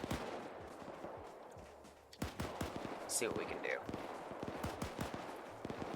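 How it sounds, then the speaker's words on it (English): Rapid distant and mid-range gunfire and machine-gun bursts during a factory assault in the video game Arma 3 with the Iron Front mod, crackling throughout with sharp cracks over battle noise while someone speaks briefly. "Just gonna follow the gunshots."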